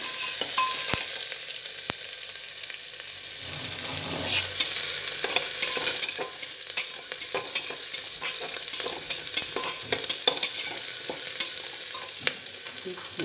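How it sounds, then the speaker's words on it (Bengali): Onion goes into reddened, frying garlic in a kadai, setting off a loud steady sizzle with a surge of hiss, then scraping stirs and scattered crackles close by, no talk. "এবার রসুনটা লাল লাল হয়ে গেছে এবার পেঁয়াজটা দিয়ে দিচ্ছে"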